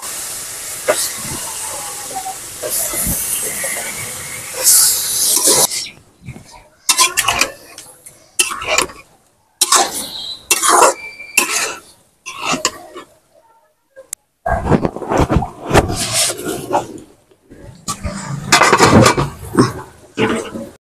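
Beef liver goes into a pan of fried spice paste with a loud burst of hissing sizzle that settles into broken bursts of frying and stirring, with gaps between.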